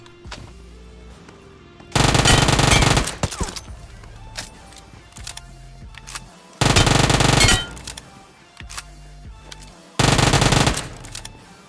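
Machine gun fire from an MG3 in the mobile shooter BGMI comes in three loud, sharp bursts of about a second each, separated by quieter stretches of in-game ambience.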